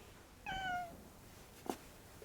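A single short cat meow sounds close and clear, followed by a brief soft knock or thud against a quiet room background.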